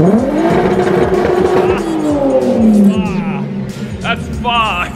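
Toyota Camry engine revving and accelerating hard through a tunnel, a loud, sustained roar with rising pitch and echo, with a voice talking over it.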